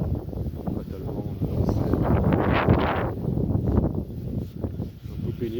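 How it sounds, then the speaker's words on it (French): Wind buffets the microphone in a continuous low rumble with gusty swells, and faint rustling of reeds underneath while pike fishing in December; no clear speech. "Ah, t'as le vent"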